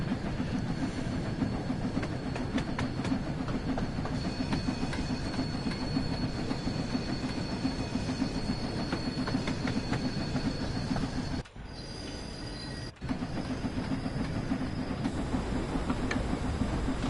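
Steam locomotive in Train Sim World 2 running steadily, a continuous rumbling roll with faint rhythmic wheel clatter and hiss; about eleven seconds in, a brief drop and pause break the noise before it resumes just as before.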